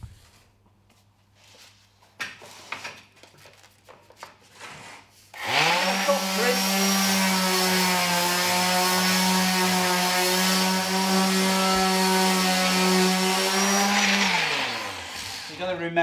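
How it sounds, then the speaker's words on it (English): A few knocks and scrapes, then a power sander whirs up and runs steadily with a high droning hum, lightly sanding thin oak veneer plywood for a boat interior, before winding down near the end. "So I'm just going to give it a light sanding."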